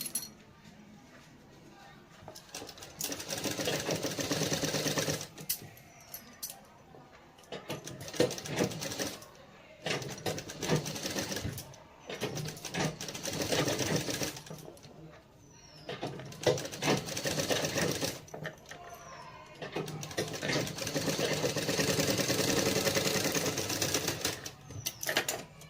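A sewing machine stitches a blouse in bursts of rapid rhythmic clatter, stopping and starting several times, with a person talking between the runs.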